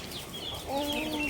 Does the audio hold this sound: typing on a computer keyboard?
no